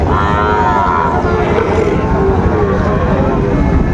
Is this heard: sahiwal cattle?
yes